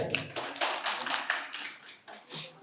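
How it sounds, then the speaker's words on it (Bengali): An audience at a quiz competition at Santiniketan Medical College and Hospital applauds a teacher; a burst of hand clapping rises and falls over a few seconds, fairly close, with no speech. "স্যারের জন্য একটা জোরে হাততালি হয়ে যাক।"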